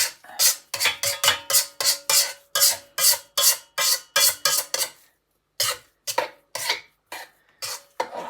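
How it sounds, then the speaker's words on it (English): A knife run around the edge of a bowl of over-whipped cream while making butter, giving a rapid series of rasping scrapes in quick rhythmic strokes, a brief pause, then more scrapes, close and fairly loud. "take a knife and just run round the edge of the bowl"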